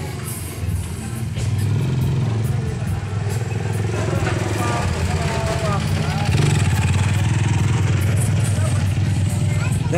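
A long queue of motorcycles during a lockdown in Metro Manila's NCR produces a continuous close rumble of idling and revving engines, with some clatter. People talk throughout over the engines.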